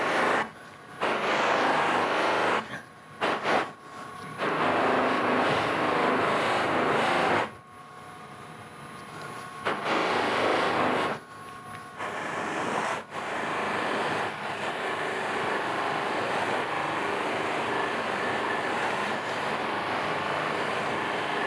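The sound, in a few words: buffing wheel polishing a CA finish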